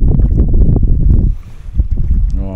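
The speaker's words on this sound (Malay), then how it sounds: "Agak angin daripada darat geng." Strong wind gusts buffet the microphone at sea near a kayak during fishing, a loud rumbling roar that drops briefly and then returns.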